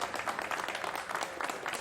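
Applause from a crowd greeting released Korean detainees arriving home at an airport, steady dense clapping throughout, moderately distant with hall ambience.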